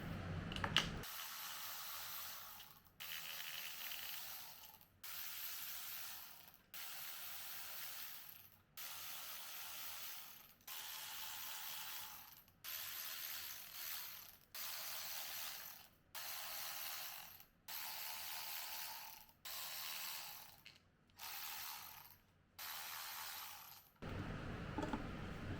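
A ratchet backs out the clutch cover bolts on a Kawasaki Bayou engine during a bottom-end teardown, with a long run of rapid, close pawl clicking in about a dozen steady bursts separated by short pauses.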